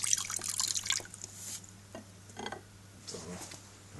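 35% hydrogen peroxide poured out, a faint liquid trickle and dripping with brief splashy bursts, close and quiet over a low steady hum.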